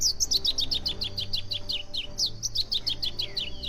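Slaty-breasted wood rail (pia-cobra) in a marsh calling in reply to playback, a steady run of sharp, high, rapid chirping notes repeated throughout, close and clear over low background hum.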